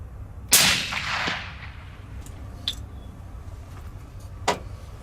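A single Remington 700 rifle in .300 Win Mag fires once outdoors at a range: a sharp loud crack with a rolling echo that fades over about a second, then a couple of faint knocks.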